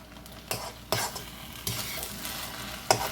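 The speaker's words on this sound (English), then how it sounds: "I almost forgot to put the egg in here." Egg sizzles in a hot pan while shrimp fried rice is stirred, with a steady frying hiss and several sharp scrapes and clinks of the utensil against the pan.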